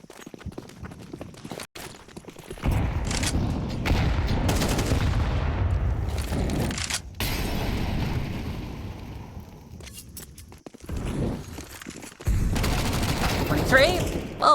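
Five-seveN pistol fire in Counter-Strike 2 during an ESL Impact League esports match, heard as bursts of sharp shots and clatter in repeated stretches, mixed with footsteps and a commentator's voice over the action.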